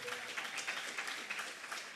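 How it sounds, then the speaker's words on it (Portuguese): Congregation applauding during a church service, a steady dense patter of many hands filling the room throughout, with no other sounds standing out. "Pode aplaudir o Senhor, querido."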